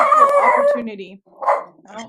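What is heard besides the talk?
dog barking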